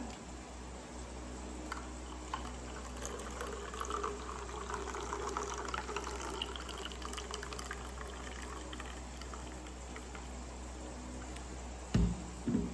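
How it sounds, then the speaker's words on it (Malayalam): Fresh coconut milk flows out of a home coconut milk extractor, a soft continuous liquid trickle and faint motor hum at low level, steady for several seconds before a short knock near the end. "അപ്പോൾ പാല് പുറത്തേക്കായിട്ട് ഇങ്ങനെ വരുന്നത് ഇതുപോലെ പുറത്തേക്ക്."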